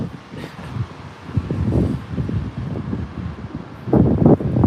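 Strong gusty wind buffets an outdoor microphone with steady roaring rumble and rustling, swelling louder near the end, with no clear voices.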